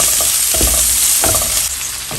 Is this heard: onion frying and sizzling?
yes